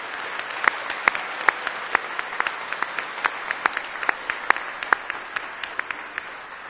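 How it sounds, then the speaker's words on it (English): A graduation awards-day audience at Baylor applauds the class of 2026, a dense steady wash of clapping with sharp individual claps standing out, sustained and fairly close throughout. "give our class of 2026 a big round of applause"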